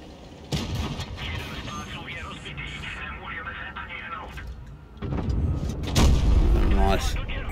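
A Vz. 55 tank in World of Tanks Blitz fires high-explosive shells into an enemy's side: sharp cannon blasts with a sudden loud onset near the middle and a booming burst later, against engine rumble, under commentary.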